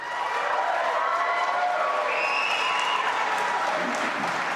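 Audience applause with some cheering at a Conservative leadership candidates' debate in 2022, a dense, steady wash of clapping from a large crowd that holds for several seconds, with faint voices mixed in.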